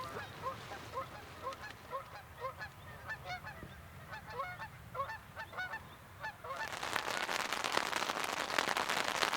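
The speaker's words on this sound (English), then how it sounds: "Just now a whole flock of geese arrived here on the island" A flock of geese honking on an island, with repeated overlapping honks at middle distance that give way to a loud, broad rushing wash near the end, and no talking.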